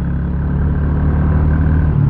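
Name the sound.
Kawasaki Estrella 250 long-stroke motorcycle engine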